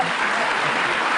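Studio audience applause on an Indonesian television talk show, a dense, even wash of clapping throughout the short moment, no clear talking over it.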